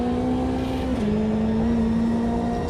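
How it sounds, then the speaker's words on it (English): Hypercar racing in the Automobilista 2 VR racing game at Road Atlanta, a steady high engine whine holding a sustained pitch with a brief dip, loud and continuous. "Seen a hypercar charging in."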